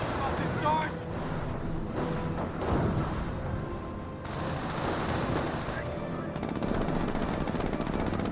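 Rapid machine gun bursts and rifle shots crackle through a Company of Heroes battle, mixed with engine rumble, while a caster talks continuously over the fire.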